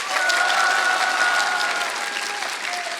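School students give a loud, lively round of applause and cheering for a former League of Legends pro gamer, the clapping thick and continuous with scattered shouts rising above it.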